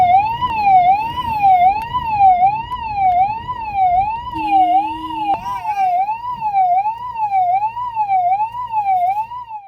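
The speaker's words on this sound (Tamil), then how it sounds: "வனத்துறையினர் சைரன் ஒலி எழுப்பியபடி வனப்பகுதிக்குள்" A forest department vehicle's siren wails in a steady, rapid up-and-down cycle, loud and continuous, while chasing wild elephants from village fields back into the forest at night, with faint engine rumble underneath.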